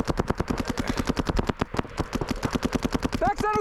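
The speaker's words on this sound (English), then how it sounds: "And now I engage in a gunfight." Paintball markers fire in rapid bursts during a paintball gunfight, a dense, loud string of sharp pops with brief pauses between volleys, close by.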